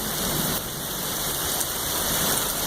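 Heavy rain from a thunderstorm pounds down outdoors near a house, a dense, loud, steady roar of drops on surfaces with no distinct thunder and no talking.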